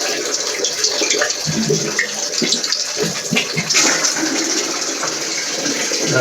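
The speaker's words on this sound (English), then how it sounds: "It's like 2 big flushes." A newly installed toilet flushes in a plumbing test, a loud rushing and gurgling surge of water that churns unevenly throughout, close by and with no voices over it.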